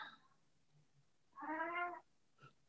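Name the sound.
cat meowing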